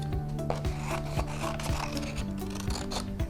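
Scissors cutting out a paper wing, a continuous rasping, rubbing snip sound with repeated short strokes, close and steady throughout without talk.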